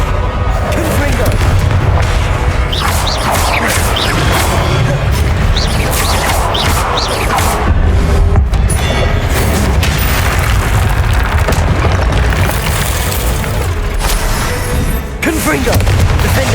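Confringo fire spells in the Hogwarts Legacy video game erupt in a barrage of loud booming explosions during a hard-mode battle. Blasts crash one after another over the whole stretch, with combat clatter and voices in between.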